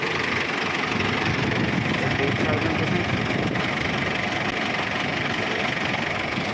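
An Arjun tractor engine idles at a mustard harvest, a loud, continuous, even drone close by that holds steady throughout with no change in pitch.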